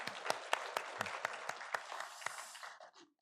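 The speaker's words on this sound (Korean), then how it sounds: "영광의 박수 올리겠습니다." A church congregation claps after a choir hymn, a modest spread of applause with distinct individual claps at a steady rhythm, fairly quiet and tapering off into silence at the end.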